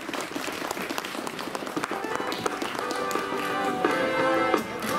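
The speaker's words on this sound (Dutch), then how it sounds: "Graag uw applaus voor Stan van Grieken." Applause and clapping from a crowd at a cyclocross race in Hechtel, greeting the third-place finisher, steady and fairly loud with scattered sharp claps and a faint tonal melody rising toward the end.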